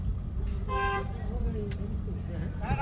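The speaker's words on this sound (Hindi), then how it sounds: "लॉन्ग हॉर्न दो, अब यहाँ हॉर्न की जरूरत है, लगातार बजाते रहो" A car horn honks in a few short blasts over rumbling traffic and engine noise during a beginner driving lesson in first and second gear, with someone talking nearby.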